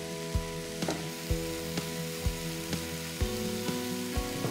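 Onions and grated raw tomatoes frying in a pan, a steady close sizzle with regular clinks of a utensil stirring and tapping against the pan.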